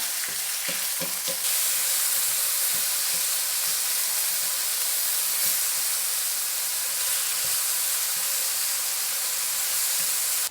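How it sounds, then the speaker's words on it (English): Bacon fries in a pan for a chicken casserole, a loud, steady sizzle and hiss with occasional faint taps as the strips are moved about, heard alone. "So now our bacon is nice and crispy."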